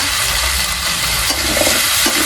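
Potato curry with fish fries and bubbles in a pan while being stirred, a loud, dense, continuous sizzle with soft scraping, close up and with no voices.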